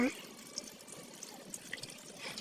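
Dirty wash water drains out of a tractor's diesel tank, a faint, steady watery trickle and splash under light background noise.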